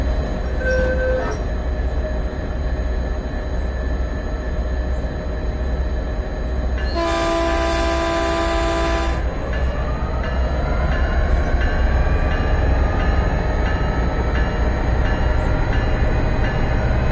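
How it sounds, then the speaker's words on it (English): A Caltrain MP36PH locomotive pulls away in the Train Sim World game: a steady engine rumble, a loud two-second horn blast midway, then the diesel note rising as the train gathers speed. "I'm going to try and do a pull away"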